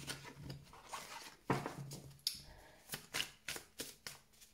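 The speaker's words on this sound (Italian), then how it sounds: "Quindi estraggo tre carte." Tarot cards being drawn and handled from a deck during a Virgo reading, a close run of soft papery shuffles, slides and flicks in irregular bursts, no talking.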